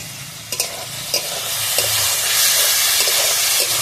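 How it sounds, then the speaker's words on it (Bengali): Boiled snails stir-fried with potato and spices in a pan, giving a steady close sizzle and hiss with a few sharp clinks of stirring early on, alone without voices. "শামুকটা অনেকক্ষণ ধরে কষাতে হবে।"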